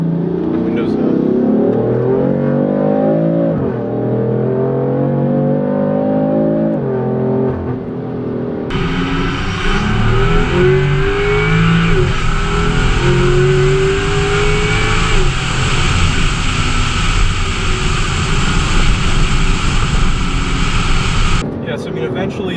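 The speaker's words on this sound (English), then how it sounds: "So here I'll do wide open throttle, windows up." BMW M4 with a dual intake setup accelerating at wide open throttle, windows up, its turbo spooling into a loud, sustained engine roar that climbs through the gears, heard from inside the cabin with a voice talking at the start.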